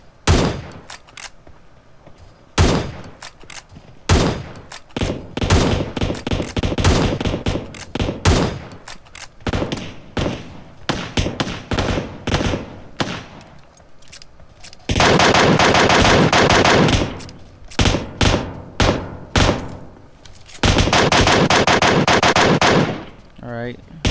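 Dense automatic gunfire from the mobile game PUBG Mobile, rapid bursts and long sustained sprays alternating with short pauses, loud and close, with a player talking between bursts.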